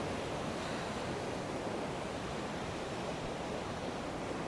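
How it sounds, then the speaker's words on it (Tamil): Water rushing below a dam pours in a steady, loud, unbroken roar that fills the whole clip, with no voices over it. "இங்கே பார்த்தீங்களா தண்ணி செமையாக போகுது"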